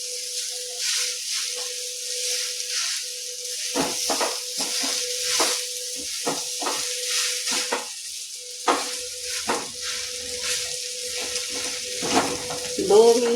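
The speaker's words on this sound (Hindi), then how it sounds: "2-3 मिनट का इसे भूनना है, जिससे कि मसाला पूरा आलू में कोट हो जाए।" Spiced potato filling for bread pakoda sautéing in a pan, a steady close sizzle broken by repeated scraping stirs of a spoon against the pan, with no talking.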